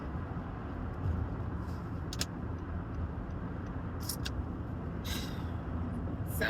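Steady road traffic rumble heard from inside a moving car on an afternoon drive, a continuous low engine and tyre drone with a few faint high clicks.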